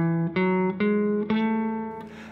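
A guitar plays a short run up the Lydian scale, several clear single notes picked one after another in steady succession and left ringing, with no talking.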